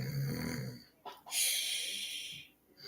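A person imitates a snore with their voice: one drawn-out, rasping snort pulled in on the breath, followed by a soft snorting exhale, close to the microphone.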